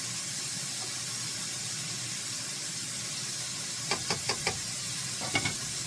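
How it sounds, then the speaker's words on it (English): Bow tie pasta fries in a hot, oily pan under a constant sizzle, with a quick run of four scraping knocks and then two more as the pieces are tossed and broken apart. "now what I want to do is break up the pasta so it's all individual pieces, not big old clumps"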